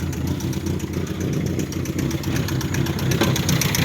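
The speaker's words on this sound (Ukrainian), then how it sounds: "Зараз заведу. Заводиться машинка добре." A ZAZ Tavria car engine idles steadily and close by with a rough, even mechanical rumble and a ticking clatter from one noisy valve. No talk is heard over it.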